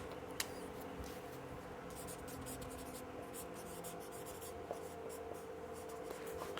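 Pen scratching across paper while physics notes on hydrostatics are written, a soft continuous scribble with faint strokes and taps over a low steady background hum.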